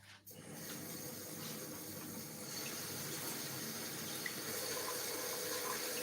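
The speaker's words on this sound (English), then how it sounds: "So fresh basil, I'm going to wash that." A running kitchen tap pours water over fresh basil, a steady close splashing hiss that starts abruptly and grows a little fuller as the leaves are rinsed.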